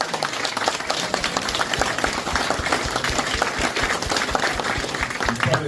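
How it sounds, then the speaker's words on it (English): An audience at a shrimp-keeping presentation in Australia gives a steady round of applause, dense overlapping claps that hold at an even level for several seconds without pause. "give Connor a little bit of a round of applause."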